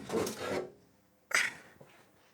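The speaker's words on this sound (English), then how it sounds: "Tip it forward. And lifting this off, I think." The metal case of an IBM 5155 portable computer being tipped forward and lifted off, two short scraping, rasping slides with a brief pause between them.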